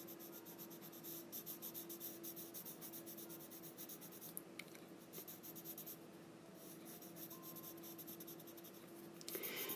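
Colored pencil lightly shading a mermaid's tail fins on a gray-lined paper copy, a steady soft scratchy rubbing that runs continuously at close range with gentle pressure, with no talk over it.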